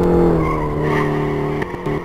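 Tires squeal loudly as a car drifts in Live for Speed with a drift mod, a sustained close tonal screech that wavers and breaks into short bursts near the end.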